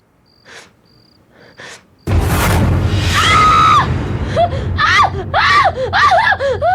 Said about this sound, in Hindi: तुम ऐसे चीखी क्यों?